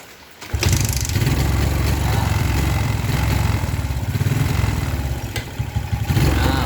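A Suzuki Smash motorcycle engine sputters to life and then runs, a loud steady idle with a rough chugging pulse, fitted with a used original Satria FU regulator and hesitating as if starved of fuel.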